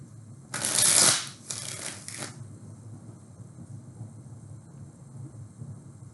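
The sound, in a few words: shuffling tarot cards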